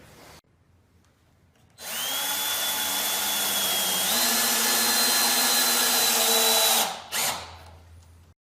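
Power drill driving screws into 4x4 wooden corner posts of a raised garden bed, one loud sustained whine close up with a pitch step midway, then a brief second burst after stopping.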